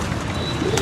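Soft, rounded cooing from pigeons in a rooftop loft, a low continuous murmur up close with a couple of brief chirps and no voices.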